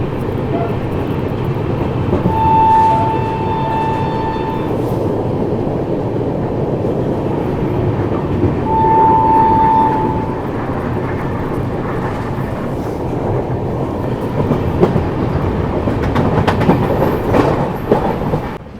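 A passenger train on the New Delhi to Srinagar line near Jammu, a steady rumbling roll with faint clickety-clack, two brief high whistle tones, and rattling bumps toward the end.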